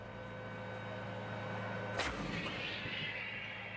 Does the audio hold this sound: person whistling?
no